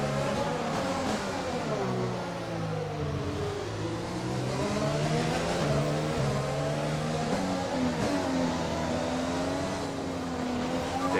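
A Formula 1 car engine in the F1 2020 video game at Singapore revs up and down repeatedly, its pitch rising and falling through gear changes, fairly faint and without talk.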